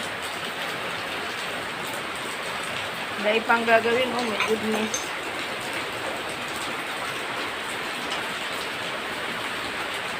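Steady rain falls outdoors at night during an engine rebuild, a constant hiss throughout, with brief talk and a short tonal noise partway through.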